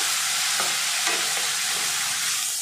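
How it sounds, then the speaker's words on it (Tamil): Onion, garlic, green chilli, tomato and curry leaves sautéing in a pan for a fish kulambu, a loud, steady, close sizzle with faint stirring scrapes and no voices. "வெங்காயம் தக்காளி பூண்டு பச்சை மிளகாய் எல்லாம் நல்லா வதங்கி வரட்டும்"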